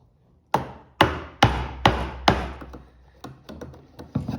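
A chisel struck by a mallet to clear waste from a deep, narrow hand-cut mortise in wood: a string of sharp, close wooden knocks, five strong blows at a steady rhythm and then a run of lighter taps.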